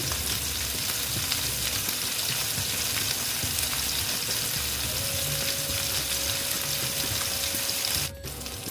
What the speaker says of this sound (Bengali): দেখো মাছগুলো একবারে ভেজে নিচ্ছি